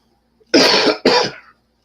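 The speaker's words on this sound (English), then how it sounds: "You just heard me cough? That's real." Two sharp, loud coughs in quick succession, close to the microphone, then silence.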